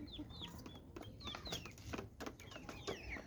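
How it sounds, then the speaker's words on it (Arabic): Chickens, chicks, geese and ducks being fed together on a farm, with close clucking and scattered chirps and calls repeating over a busy, steady background. "احنا بنعشي الكتاكيت مع الفراخ مع الوز مع البط كله مع بعض"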